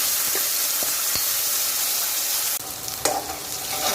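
Ground masala roasting with a bay leaf in oil in a pan over medium heat, a steady close sizzle with a few stirring scrapes and a brief louder burst near the end.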